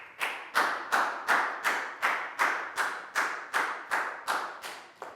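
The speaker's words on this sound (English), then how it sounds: "High five and a big round of applause for Net, please, guys." A primary classroom of pupils clapping together in a steady rhythm, about a dozen crisp, evenly spaced claps in unison, close and clear with no talking.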